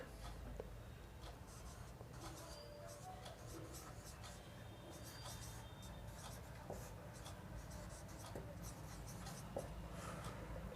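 Pen or chalk scratching steadily on a surface while writing by hand during a Class 10 mathematics lesson on circles, faint, continuous, close by, without speech over it.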